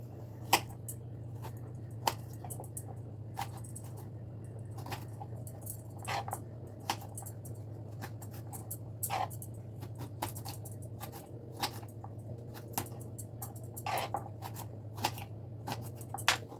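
A knife taps steadily through a peeled medium carrot, cutting it into thin long strips on a board, with many quick close crisp clicks over a low constant hum and no voices.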